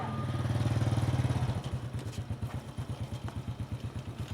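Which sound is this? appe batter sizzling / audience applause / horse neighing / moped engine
moped engine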